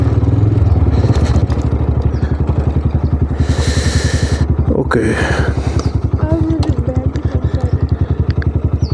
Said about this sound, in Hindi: बाइक खड़ा करते हैं किसी ऐसी सेफ जगह पे